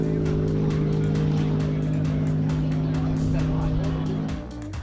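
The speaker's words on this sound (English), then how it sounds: "this crazy compound turbo system in this WTF Auto Toyota Supra" Toyota Supra with a compound turbo engine racing at RaceWars Albany 2019, a loud sustained engine roar holding steady, then easing slightly at the end.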